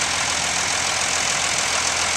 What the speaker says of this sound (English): This is a John Deere 3155 front wheel assist tractor